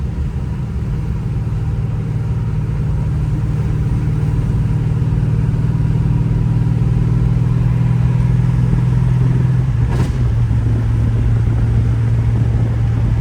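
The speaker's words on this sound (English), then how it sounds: "Sixth gear just seems to chug along though, so I definitely can notice the torque increase." A Chevy S10 pickup with a 6.0 V8 swap and a T56 manual gearbox cruises in sixth gear, a steady low engine drone heard from inside the cab, loud and even with a brief shift in tone near the end.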